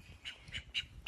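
A male duck stuck on its back quacks four times, evenly spaced, short nasal calls at close range against a quiet background.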